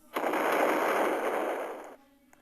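A single explosive blast in a Roblox video game bursts in loud and roars for nearly two seconds before cutting off, followed by quiet with a faint click.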